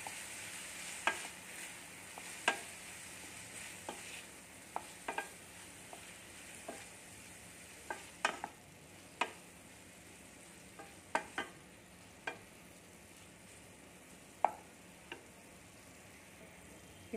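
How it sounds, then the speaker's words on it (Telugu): Boiled broccoli being stirred into cooked vegetables in a pan for a millet salad, heard as a soft background sizzle broken by scattered sharp utensil taps against the pan, close and fairly quiet, with no talk. "మనం ముందుగా బాయిల్ చేసుకున్న బ్రోక్లీ వేసేసుకుని లైట్గా ఇలా అన్నీ మిక్స్ అయ్యేలాగా కలుపుకుందాం"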